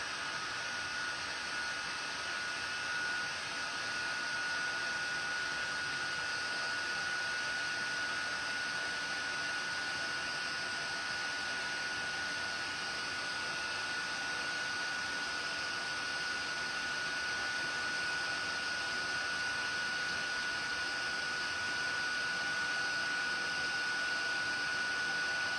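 A heat tool blows hot air to melt embossing powder on damp paper, giving a loud, steady whooshing drone that holds unbroken the whole time with no voices.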